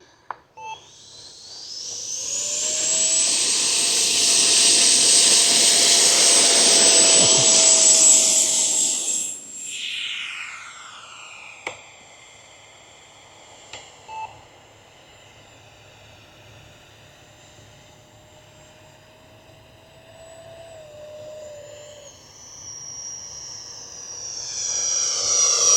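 An E-flite 80mm electric ducted fan RC F-16 jet whines past with a rising, high-pitched whoosh that peaks and then fades. A thin, steady tone and faint outdoor background remain after it passes.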